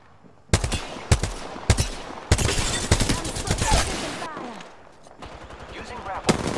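Gunfire from the Apex Legends shooter while a player takes fire, sharp close shots and rapid bursts striking at irregular intervals, loud and punchy against a quieter background.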